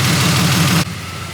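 A BMW E30 with a swapped engine runs steadily with a loud, close, low drone that drops off abruptly near the end.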